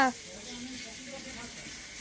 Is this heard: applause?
no